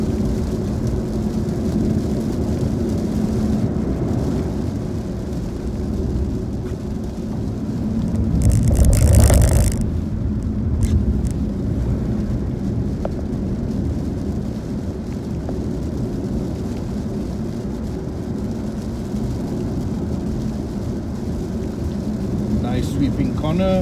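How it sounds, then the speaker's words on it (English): A BYD Seal electric sport sedan laps the Zhuhai race track in heavy rain, with a constant loud roar of rain and tyre noise swelling briefly at mid-drive. "we are taking this electric sport sedan for a fun drive"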